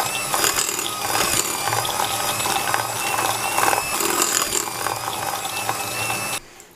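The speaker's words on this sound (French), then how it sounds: "je vais fouetter un peu pour bien crémer" Butter and sugar are creamed with a whisk for a light galette des rois, giving a continuous fast rattling, grinding whir close up that stops abruptly near the end.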